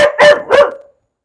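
Poodles indoors bark twice in quick succession, sharp, loud and close, then silence.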